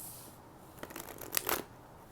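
A deck of tarot cards being shuffled close by, a soft riffle of papery flicks building to a brief cluster of crisp snaps before fading, in an otherwise quiet room.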